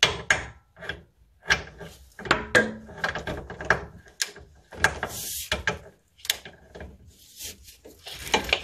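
Socket wrench loosening a size 16 oil pan bolt under a BMW N54 engine, a run of sharp metallic clicks and ratcheting bursts with short pauses, close and fairly loud.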